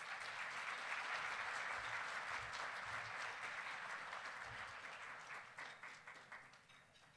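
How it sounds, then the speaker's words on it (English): An audience at a lecture on conservatism applauds the speaker, a sustained, even sheet of claps that thins out over the last two seconds into scattered individual claps. "could you please give a round of applause to our speaker"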